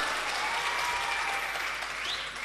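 Sustained, dense applause from a large audience at a Tamil pattimandram debate stage event, loud and continuous throughout with no speech over it.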